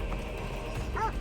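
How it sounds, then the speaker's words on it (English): A dog yips and whimpers briefly in the video game Assassin's Creed Odyssey, faint over a steady wash of game ambience and rumble. "Fuck off, dogs."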